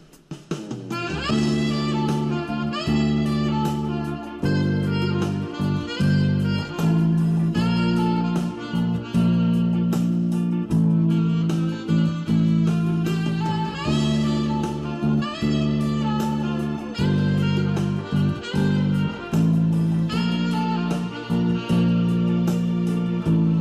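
Bass guitar plays the main riff of a song in a funk style, a steady stream of plucked notes with some brighter percussive attacks, loud and continuous with no talk.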